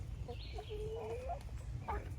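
Backyard chickens pecking at fresh watermelon give a few short, soft clucks and one higher drawn-out call, fairly close over a low background rumble.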